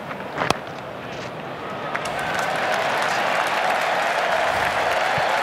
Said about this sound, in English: Big cheer around the ground.